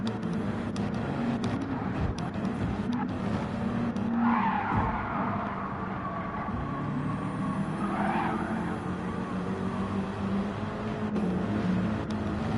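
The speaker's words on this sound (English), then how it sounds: "He spun coming back onto the short track from the long track." Tires squeal and skid as a race car spins out in a racing video game replay, a drawn-out screech rising and falling over steady engine drone and track ambience.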